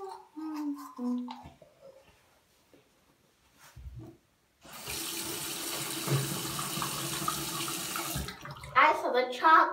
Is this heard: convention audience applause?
no